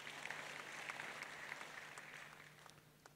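A church congregation claps, moderately faint and somewhat distant, with scattered distinct claps over a soft continuous patter that thins out toward the end, and a low steady hum beneath.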